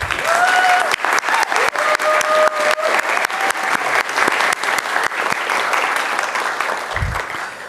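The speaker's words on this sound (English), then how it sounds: "How about one more round of applause?" A crowd at a graduation ceremony applauds steadily and loudly throughout, sustained dense clapping with a few sharper individual claps standing out.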